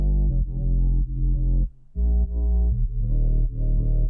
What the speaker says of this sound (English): whereas on LALAL.AI,